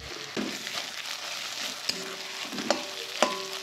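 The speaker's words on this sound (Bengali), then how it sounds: "তো পেঁয়াজটা ভাজা ভাজা হয়ে গেছে। তো এই সময় এসে আমি" Boiled potato mashed with salt going into a pan of fried onions: a steady close sizzle broken by several sharp spatula clacks and scrapes against the pan.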